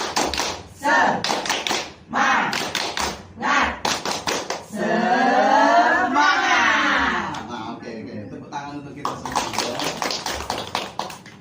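A group doing the tepuk semangat clapping routine during a training session: rhythmic bursts of hand claps in patterned sequences, with a chanted call in the middle, loud and close, among adults.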